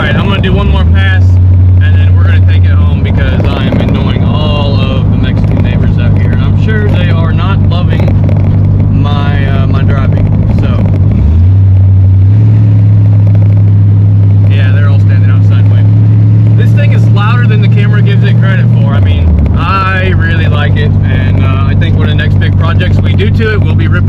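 A C4 Corvette makes a driving pass with a loud, deep engine and exhaust drone. The revs rise and fall through gear changes over about twenty seconds, with a voice talking over the sound.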